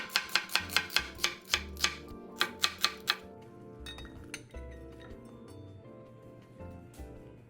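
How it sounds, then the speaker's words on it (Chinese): A knife finely chopping onion on a board, a quick series of about fifteen crisp, evenly spaced taps, then a few softer scraping knocks with clatter of utensils. "60克洋葱，一样切细。"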